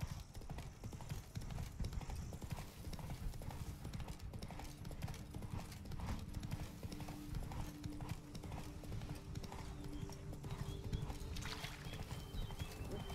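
Horse hooves clip-clopping steadily as a rider travels through the Witcher 3: Wild Hunt video game world, a continuous even rhythm of close, moderately loud hoofbeats over a low rumbling background.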